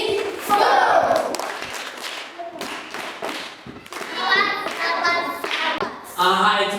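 Schoolchildren clapping for a classmate in a classroom, a burst of rhythmic clapping and thumps mixed with children's voices and shouting, with an adult speaking in between.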